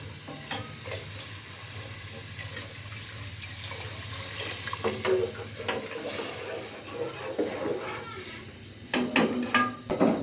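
Water poured into a pot while cooking karhi pakora, a continuous splashing pour with stirring and clinking of utensils that grows louder toward the end.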